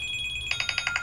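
A phone rings with a call from an unknown caller, a short burst of bright electronic trilling pulses that grows louder after a softer start, close by and without speech.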